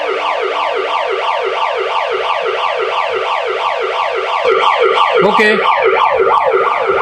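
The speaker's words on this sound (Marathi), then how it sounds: "सायरन वाजवा" Hearse van siren wailing loud and close in a steady rapid up-and-down sweep, with a short spoken word and a brief clatter near the end.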